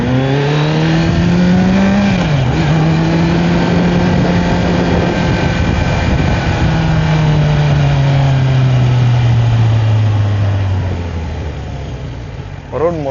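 A Kawasaki Z900 motorcycle engine runs steadily and loud, pitch holding then slowly falling away as it eases off near the end, with no voices over it.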